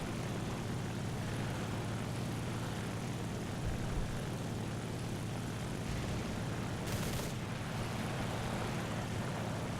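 A Ki-43 Otsu fighter plane's propeller engine in the War Thunder video game, a steady droning hum held evenly throughout, moderately faint with no talk.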